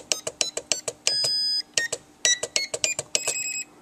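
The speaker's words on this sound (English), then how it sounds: "the last beep lets you know it's at its highest position" Short electronic beeps from the throttle trim button of a Hobbyzone Mini Super Cub RC transmitter, a rapid rhythmic series of sharp tones with a couple of longer held beeps, loud and close, no talk.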